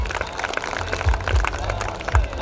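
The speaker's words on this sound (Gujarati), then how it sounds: "જોરદાર તાળીઓથી વધાવીએ." An audience at a teachers' award ceremony applauds, a dense patter of many hands clapping at moderate distance with a few thumps, steady through the short stretch.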